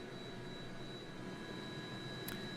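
Simulated helicopter hovering just above a helipad in a flight simulator game, a steady, loud turbine whine and broadband rotor roar holding constant throughout with a brief bright burst near the end.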